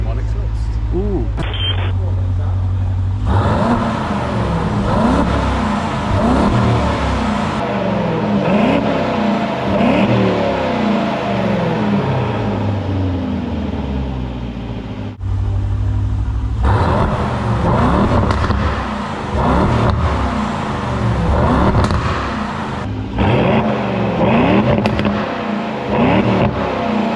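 An Aston Martin DB12 with a QuickSilver 2-in-1 exhaust revs loudly and repeatedly, engine pitch climbing and dropping through sharp upshifts, with a short break in the middle. Someone talks over parts of it.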